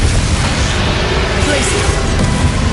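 A Confringo fire-blast spell from Hogwarts Legacy erupts as a loud, dense roar that fills the whole moment without letup, with a voice mixed into it.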